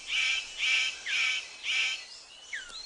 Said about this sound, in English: The superb bird of paradise calls to attract a female.